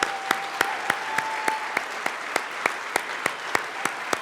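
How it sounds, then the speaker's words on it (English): A gala audience claps steadily, a dense wash of applause with sharp, evenly spaced rhythmic claps standing out above it. "I'm going to ask you to give that round of applause for the patients and the caregivers and the doctors and the researchers"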